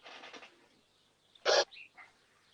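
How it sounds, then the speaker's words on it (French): Small birds chirp somewhere outdoors behind an exercise session, a few short bright calls scattered across a quiet moment, with one louder burst in the middle. "on entend les petits oiseaux"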